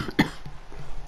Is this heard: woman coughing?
yes